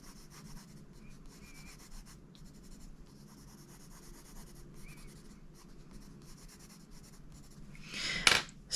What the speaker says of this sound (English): So then we take the blender pencil, just clean it here a bit after the door, and then we begin blending.